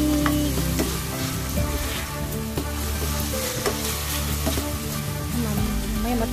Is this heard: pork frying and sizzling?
yes